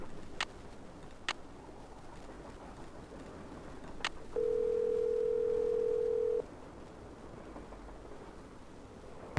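A steady telephone dial tone in a Nancy Drew video game, Last Train to Blue Moon Canyon, holds for about two seconds after a few short clicks of the handset, alone over faint background hiss.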